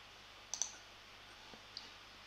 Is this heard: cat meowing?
no